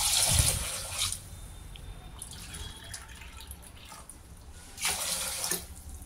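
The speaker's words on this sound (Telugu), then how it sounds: "2 కప్స్ వాటర్ యాడ్ చేయాలి." Water poured into a pressure cooker holding soaked sorghum, green gram and peanuts, heard as a few short splashing bursts separated by quiet gaps, close by with no talking.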